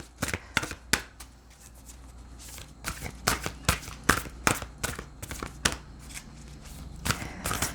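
A big deck of tarot-style reading cards is shuffled by hand, with crisp riffles and slaps coming in irregular bursts, close and fairly quiet, with no speech.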